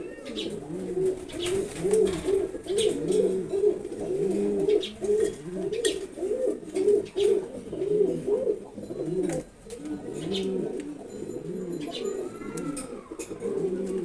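Several pigeons coo continuously nearby, rolling low calls repeating in rhythmic overlapping phrases, with occasional faint chirps and light clatter.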